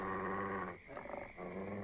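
A cartoon dog growls low and close, a sustained rumbling snarl that briefly breaks into choppy huffs before settling back into a steady growl.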